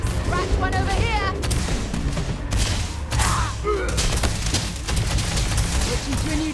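Gunshots and booming fire sound in the video game Starfield, loud and repeated in clustered bursts, mixed with voices talking over the fight.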